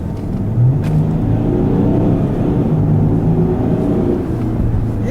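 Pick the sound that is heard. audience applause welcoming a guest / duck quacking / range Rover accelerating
range Rover accelerating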